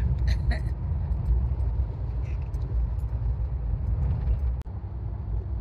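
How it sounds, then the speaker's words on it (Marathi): A car travelling along a coastal road at about 50 to 60 km/h gives a steady low rumble of engine and tyre noise, with faint clicks and a brief dip near the end. "60च्या स्पीडनेच गाडी चालवायची आहे."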